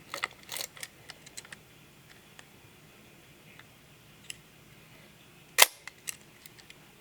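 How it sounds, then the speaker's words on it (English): Quiet room with a few faint clicks, then one sharp, loud mechanical snap of a Canon IIIA rangefinder camera's shutter firing at 1/200th of a second, followed by softer clicks. "there's the shutter"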